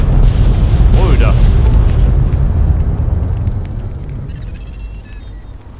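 An explosion in the video game Fallout: New Vegas: a deep, heavy boom that rolls into a long, rumbling low-end decay over several seconds, fading gradually while a thin high whine rises near the end.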